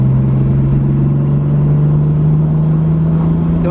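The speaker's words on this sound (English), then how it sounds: "Turbo kicked in now." Toyota Supra fitted with a REV9 wastegate on 10 PSI springs, engine droning loud and steady from inside the car as the turbo comes on, a constant rising engine tone with no talk.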